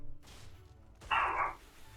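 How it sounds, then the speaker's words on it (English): A small dog gives a short burst of barking and yipping, loud and close, over a low background hum. "I do not know what in the world is happening with my little dog."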